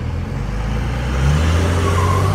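A custom 1947 International car runs loud and close, its engine rumbling and rising, with a thin high squeal from the tires building near the end.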